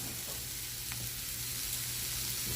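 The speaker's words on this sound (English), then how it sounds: "We're gonna let this just brown a little" Mushroom and cheese stuffed chicken sears in a hot pan, giving a steady, even sizzle and crackle that holds throughout with no talking.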